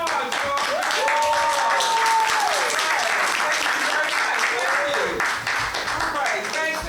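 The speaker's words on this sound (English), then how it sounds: "Well, give her some applause, y'all." Attendees at a Fairmount Heights council meeting clap together in a steady burst of applause while a voice talks over the clapping.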